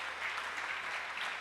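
A church congregation applauds, a faint, steady wash of clapping with no separate claps standing out, brief and distant.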